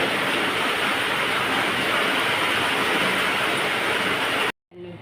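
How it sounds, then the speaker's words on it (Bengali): Heavy rain pours down in a dense, unbroken roar of pattering drops, loud and close, ending abruptly in a short silence. "কেমন চমচমিয়ে বৃষ্টি হচ্ছে।"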